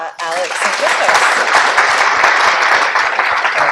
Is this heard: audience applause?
yes